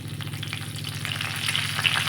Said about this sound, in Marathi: जिरं पण छान तडतडलं लगेचच टाकलं मी कढीपत्ता